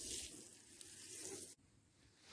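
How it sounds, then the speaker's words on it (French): Water sprays over a freshly sown vegetable garden bed, a soft continuous hiss that stops abruptly partway through, leaving quiet outdoor background. "on n'oublie pas un bon arrosage sur tout ça"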